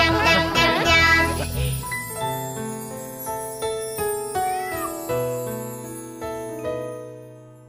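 Children's song with sung cat meows: voices imitate a cat's mewing at the start, then a bright, bell-like melody with a steady plucked rhythm carries on.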